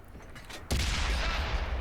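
Tank cannon fire from World of Tanks on console: a sudden loud blast lands partway through and is followed by a sustained rumbling roar and debris.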